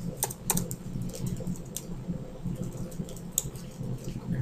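A computer keyboard clicks in a few quick, close keystrokes, including a Ctrl+T shortcut, over a soft room hum.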